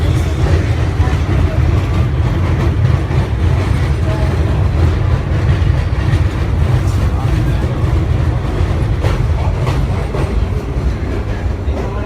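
A New York City subway train, BMT/BRT Standard, D-Type or R9 cars, arrives at Brighton Beach station with loud continuous rumble and wheel clatter on the rails, close and steady, slowly easing.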